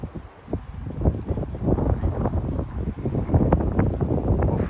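A boat pulls away across choppy water on a summer outing at St Vital Park, with rumbling engine or hull noise mixed with heavy wind buffeting the microphone.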